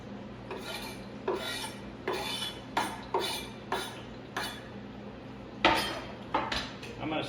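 Onions stirred in a pan on an induction stove: a rhythmic series of about a dozen rasping, scraping strokes of a utensil against the pan over a soft steady sizzle, close and clear.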